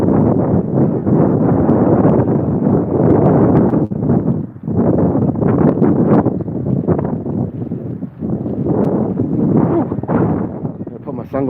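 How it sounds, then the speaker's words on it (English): Strong outdoor wind buffets the microphone with a loud, continuous low rumble that surges and dips irregularly. "Windy out here."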